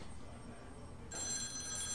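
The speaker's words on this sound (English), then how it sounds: "That's your phone." A telephone in The X-Files video game starts ringing partway through, a steady electronic bell tone rising over a quiet room background.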